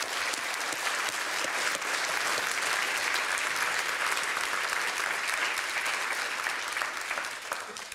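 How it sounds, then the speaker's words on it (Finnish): Audience applause welcoming President Tarja Halonen onstage, a dense, even roar of many hands clapping, sustained for several seconds at a moderate level without letting up. "Tänne näin annetaan aplodit."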